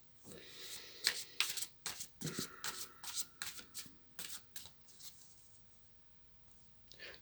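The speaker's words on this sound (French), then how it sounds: "je vais tirer une dernière carte pour finir" Tarot cards riffled and shuffled by hand, then drawn one at a time, giving a run of crisp papery flutters and snaps that taper off into quiet.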